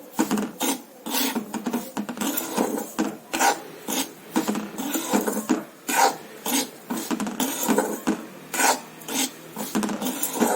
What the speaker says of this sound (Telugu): 1 కప్పు బొంబాయి రవ్వని వేయిస్తున్నాను.